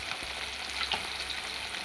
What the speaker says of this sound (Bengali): এই দেখো মাছ ভাজা হচ্ছে